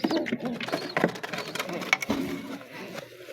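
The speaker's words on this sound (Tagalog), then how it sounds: "At ito na yung malaki naming kalapati, burga." A large pigeon gives soft, low cooing notes in a brief burst, close by, with a person speaking over it.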